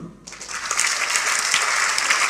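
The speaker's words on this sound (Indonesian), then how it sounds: "Tepuk tangan dulu." An audience in a church sermon bursts into applause after a brief quiet moment, a dense, steady patter of many hands that holds at a moderate level to the end.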